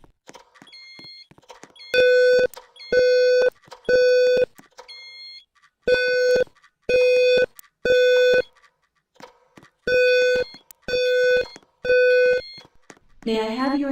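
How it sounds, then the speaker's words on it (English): A building fire alarm sounds in repeated bursts of loud, harmonic electronic tones, grouped in threes with short gaps between groups, close and dominant throughout. "There has been a fire alarm reported in the building."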